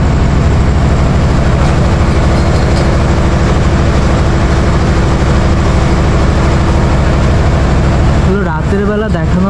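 A Titumir Express train sets off from Natore station with a loud, steady rumble of engine and wagons throughout, and a voice is heard briefly near the end.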